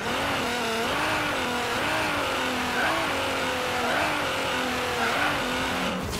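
A 1000HP GTR-powered 1990 Renault Alpine GTA drag car in Forza Horizon 3 revs hard during a wheelie launch, its engine note rising and falling through repeated gear changes as a continuous loud roar.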